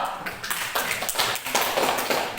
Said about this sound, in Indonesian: Tepuk tangan untuk nomor 2.